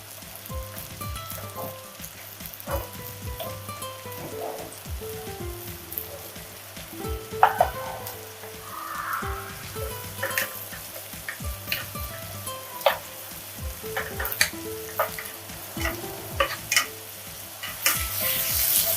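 Chopped onions frying in oil in a pan for a Bangladeshi fish curry, a steady close sizzle with crackles and pops throughout and occasional stirring clicks.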